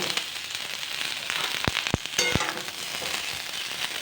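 Chopped onion sizzling in mustard oil in a wok, giving a steady close, bright hiss broken by a few sharp spattering pops.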